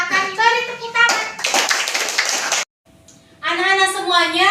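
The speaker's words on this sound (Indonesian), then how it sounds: "Untuk kelompok auditori silakan beri tepuk tangan." Students in a classroom clap their hands in a short burst of applause, with children's and a teacher's voices speaking before it and again after a brief silent gap.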